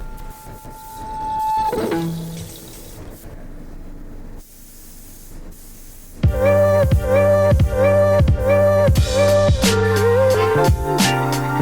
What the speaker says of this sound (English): the primer surfacer over these parts is quite easy. Basically, just spray 2 coats